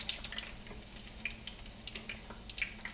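Plantains cook in a pan over a low flame, giving a faint, steady sizzle with a few soft ticks and pops scattered across it.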